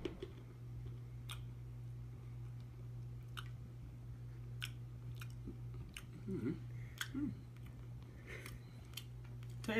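Person chewing dry cat food, soft crunchy bites and chews close up over a low steady hum, sporadic and quiet.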